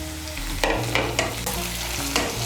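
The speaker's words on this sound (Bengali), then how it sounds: "এখন আমি এর মধ্যে দিয়ে দেবো টমেটো কুচি।" Chopped tomato fried and stirred in hot oil with onion for a Bengali cauliflower curry, a steady loud sizzle with several scraping strokes of a spoon against the pan, no voices.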